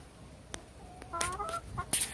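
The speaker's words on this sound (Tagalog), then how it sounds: "Nagkalat ang mga manok natin." Chickens cluck in short, scattered bursts close by, with a few sharper squawks toward the end against a quiet background.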